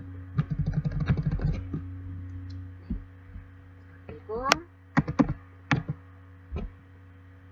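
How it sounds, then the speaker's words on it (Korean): Computer keyboard keys are tapped during a Photoshop lesson, with a quick burst of clicks at first and then scattered single presses, close and crisp. Someone speaks briefly between the taps. "물론 키보드의 방향키도 활용하실 수 있습니다."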